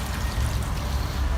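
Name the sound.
water pouring down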